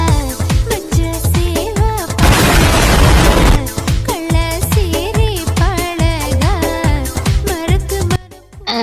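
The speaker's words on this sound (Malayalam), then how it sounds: "ആരാ ഇവിടെ പടക്കം പൊട്ടിച്ച്?" A single loud firecracker bang bursts into a noisy, crackling roar lasting about a second, set over continuous music in a staged kitchen scene.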